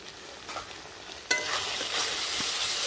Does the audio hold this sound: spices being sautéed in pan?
yes